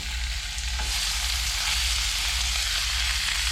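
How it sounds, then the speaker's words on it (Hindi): Hand-minced keema fries steadily in a hot pan with a loud, continuous sizzle and occasional stirring scrapes, and no talking. "अब हम इसके अंदर डाल देंगे ये कीमा"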